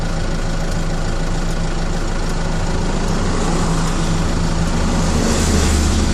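A 4BT Cummins diesel engine idles steadily in a truck at close range, a loud, continuous low clatter and drone that never lets up.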